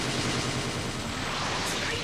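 Bomb-skill explosions in the video game Naruto Shippuden Ultimate Ninja Storm 4 make a loud, dense, continuous barrage of crackling blasts with no clear gaps over about two seconds.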